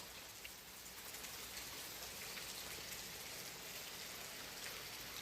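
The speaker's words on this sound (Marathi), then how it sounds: "पाऊस पण चालू आहे." Steady rain falling at Bhandardara, a continuous dense hiss of drops on surfaces with no breaks, fairly close and even throughout, with no voices.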